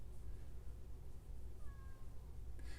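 A cat outside cries to be let in, giving a couple of faint, brief meows over a steady low background hum.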